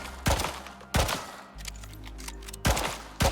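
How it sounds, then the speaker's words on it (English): The Chak pistol in the Icarus survival game fires a full round in rapid sharp bursts, loud and close, with pauses and a low mechanical hum between shots. "We're going to sit here and put a whole entire round into the middle of it and then reload it"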